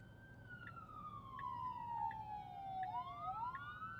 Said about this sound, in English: There's just an ambulance coming.